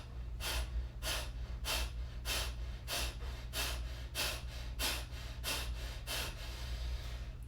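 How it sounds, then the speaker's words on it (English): Deep, rhythmic breathing during a grief-relief breathwork exercise, about a dozen close, forceful breaths in quick steady succession, each a sharp rush of air, over a low constant hum with no talking. "Deep inhale. Exhale."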